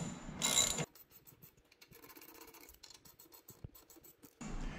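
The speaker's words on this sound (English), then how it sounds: "As you tighten the bolts, you'll notice that the panel starts to separate from the machine" Close ratchet-wrench clicks as bolts are tightened to push the side panel off a Contec CT320 concrete shaver and scarifier, a rapid series of small metallic ticks between louder scraping bursts.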